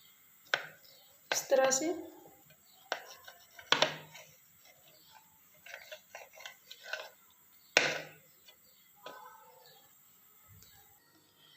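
A knife cuts bread pakora sandwiches into pieces on a board, making irregular sharp taps and thuds at close range, with someone speaking briefly between the cuts.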